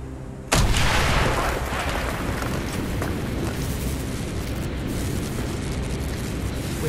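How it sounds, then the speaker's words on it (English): Wall-breaching explosion in the Call of Duty Black Ops game: a sudden loud blast bursts in after a quiet moment, then a dense, roaring rumble of debris and noise sustains for several seconds. "Mason, blow a hole in that fucking wall."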